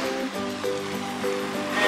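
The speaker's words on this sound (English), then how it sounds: "Check out that water fountain." A water fountain on a high school campus splashes in a continuous broadband wash. Some faint tonal sounds run underneath.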